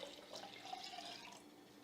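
Water pours into a jar while water kefir is being made, a faint, close, continuous trickle lasting under two seconds, with no talking.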